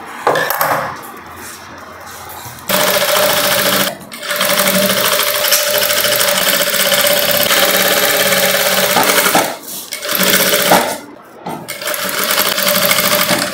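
A sewing machine stitches around the edge of a long gown with stone embellishments, producing a loud, steady mechanical whirr in sustained runs broken by short pauses.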